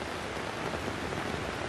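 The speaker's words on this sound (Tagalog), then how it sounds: "Umuulan pa rin." Rain falls steadily as a dense, even hiss of drops striking surfaces close by, unbroken and with no voices.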